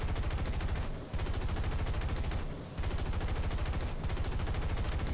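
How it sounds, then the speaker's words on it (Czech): An aircraft's machine guns fire in War Thunder, a P-400 or A-20 Havoc, in long, dense bursts of rapid shots, loud and continuous, broken by two brief pauses. "Mizerně střílím"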